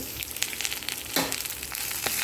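Mutton frying in coconut oil for mutton sukka, a close, continuous crackling sizzle punctuated by sharp spits and pops.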